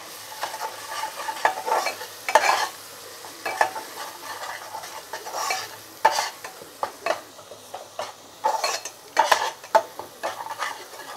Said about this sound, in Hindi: ड्राई मसाले डालने के बाद हमें इसे कुछ देर भून लेना है।